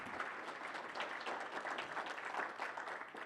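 Audience applause for a panel of speakers at a professional talk, a soft, steady patter of clapping from a room of people, fairly distant and even throughout.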